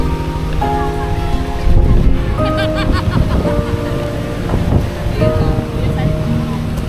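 Strong, gusty wind on Mount Parawagan in Rodriguez, Rizal, Philippines roars and buffets the microphone continuously, with a low rumbling drone and tonal hum running underneath throughout.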